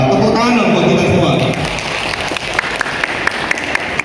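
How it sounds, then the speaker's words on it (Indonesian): At a culinary course anniversary, an indoor audience claps, loud and brisk at first and then thinning to scattered claps. A voice talks over the start. "tepuk tangan buat kita semua."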